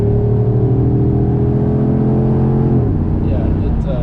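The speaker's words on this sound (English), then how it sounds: "it fills the cabin so nicely with that beautiful LS-V8 sound" LS V8-swapped Jaguar under full throttle in second gear, heard from inside the cabin: a loud, sustained engine drone rises steadily in pitch, then drops sharply near the end as revs fall.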